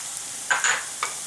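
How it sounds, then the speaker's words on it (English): Thyme and oregano being stirred into a hot pan, a steady low sizzle with a few short scraping strokes of the spoon, close and fairly quiet. "We're just going to stir this in."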